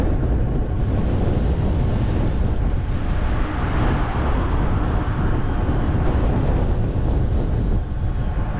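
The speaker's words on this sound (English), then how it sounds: "It's blowing a lot harder into my face. There's nothing to stop the wind." Strong wind buffets the microphone while an e-bike rides along the open Florida coast, a loud continuous roar that barely varies for several seconds, with no talk.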